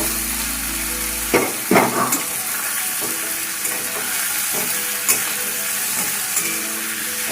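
Pre-fried chicken pieces go into a hot pan for chili chicken, setting off a loud continuous sizzle and hiss with a few sharp clatters and scrapes as they are dropped in and moved around.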